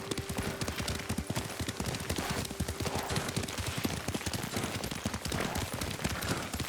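Horse hooves gallop in a fast, continuous clatter, loud and close, with no talking, in the video game Ghost of Tsushima.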